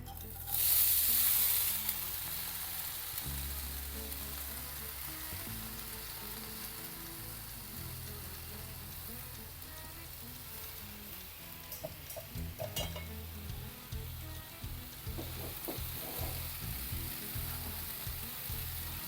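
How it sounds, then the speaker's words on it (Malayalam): Sesame seeds, still slightly damp, dry-roasting in a pan with a steady close sizzle and crackle that swells loudly at the start, with occasional stirring scrapes and light pan knocks later. "ഒന്ന് വറുത്തെടുക്കാം ആദ്യം"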